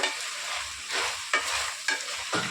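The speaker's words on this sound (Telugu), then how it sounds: "చూస్తారు కదా ఎంత మంచిగా ఫ్రై అవుతుందో ఇట్లానే ఫ్రై అయిపోవాలి మంచిగా" Masala for Andhra-style country chicken curry sizzling and frying in a pan, with several scraping stirs at a regular pace; close and fairly loud, no talking.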